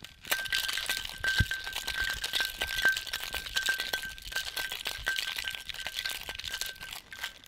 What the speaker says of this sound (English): go ahead and give it a great shake.